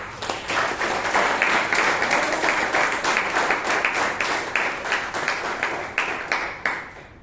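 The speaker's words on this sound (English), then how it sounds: "So give her a round of applause." Audience applause after a speech at a Toastmasters club meeting in Bangalore: a steady, dense wash of many hands clapping, fairly close and even in loudness, tapering slightly near the end, with no talk over it.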